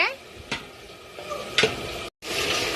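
Biryani cooking in a pan, with a steady sizzle of frying under a few scraping stirs of a spoon against the pot, fairly close, with a brief cut near the end.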